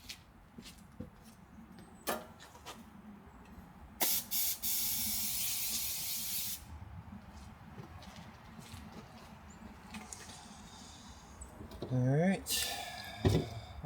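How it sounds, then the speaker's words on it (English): Compressed air hisses loudly in a sustained burst through a Cub Cadet mower part that mud daubers had nested in, with quieter workshop handling and brief talk around it. "Blow through it with the compressor."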